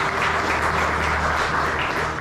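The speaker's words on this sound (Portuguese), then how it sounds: "Vamos aplaudir bem forte." A congregation claps hard and steadily in a dense, unbroken wash of applause, close and fairly loud, with no voices on top.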